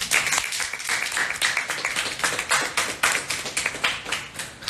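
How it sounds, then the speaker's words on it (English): A round of applause from a small group at a meeting, made of distinct, closely spaced hand claps in a rough rhythm, loud and near, with no pause throughout. "Round of applause."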